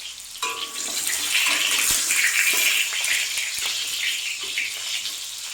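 Pointed gourds (potol) sizzle in mustard oil, a bright, steady hiss that starts abruptly and holds loud and close without pause.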